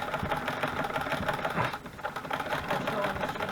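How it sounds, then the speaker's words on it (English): A sewing machine runs in a fast, steady mechanical clatter, briefly easing off midway before resuming, close by with faint voices underneath. "my sewing machine."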